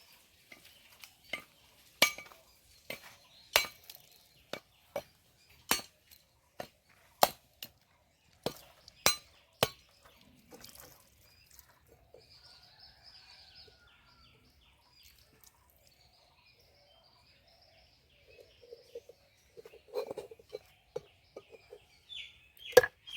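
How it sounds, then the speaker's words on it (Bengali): A thick coconut is cracked open with sharp, loud knocks in an irregular series, then quieter scraping and clinks follow after a pause before a few final taps. "বন্ধুরা নারকেলটা ফাটিয়ে নেবো"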